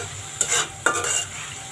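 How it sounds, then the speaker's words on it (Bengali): Spice paste with ground cumin being sautéed in oil for a Bengali fish dish, a soft steady sizzle broken by two distinct scraping stirs of a spoon against the pan, close and alone. "এখন মশলাটাকে ভালো করে কষিয়ে নিব"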